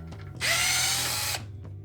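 A power drill spins out the bolts holding the rear set foot peg on a Kawasaki Z125 Pro motorcycle, making one loud, close whirring burst just under a second long with quiet moments before and after.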